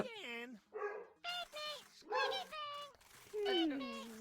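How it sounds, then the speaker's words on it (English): A pet dog barks and yips indoors, short sharp bursts mixed into steady close talking, partly masked by the voice throughout. "I'm sorry if you can hear my dog in the background."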